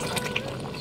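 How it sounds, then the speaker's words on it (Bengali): Hot water poured into a pan of village-style chicken kosha, a steady liquid splash and trickle running close and continuous through the brief moment with no talk. "আর এখানে আমি গরম জল দিয়েছি মাংসের মধ্যে"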